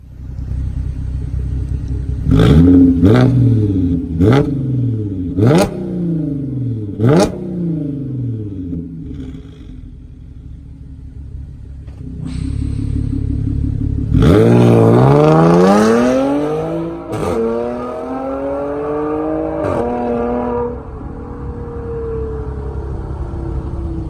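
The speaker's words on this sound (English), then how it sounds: "Valvetronic rear muffler bypass and an X-pipe where the center resonator was" An Audi S4 B8 with a Valvetronic rear muffler bypass and X-pipe idles with a deep rumble, then gives five sharp throttle blips, followed by a long climbing rev that drops back to a burbling idle and a final blip.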